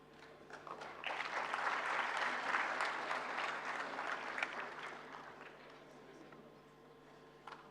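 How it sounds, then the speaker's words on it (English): An intellectual property conference audience applauds guests seated on the dais. The clapping swells quickly from a thin start into a full, dense burst, then gradually tapers off toward a few scattered claps at the end. "और आप सभी की तालियां मैं चाहती हूँ जरूर बजती रहें."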